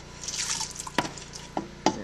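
Bar soap shreds drop into water, giving a few soft, close splashy plops and drips spaced apart over a quiet background.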